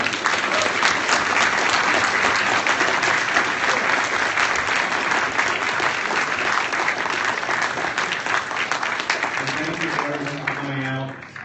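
A large audience at a speaker's event gives a long round of applause, thick continuous clapping that holds loud for about ten seconds before thinning out as a voice begins speaking at the end.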